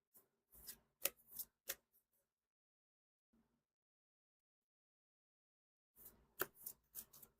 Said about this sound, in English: Couple good shuffles.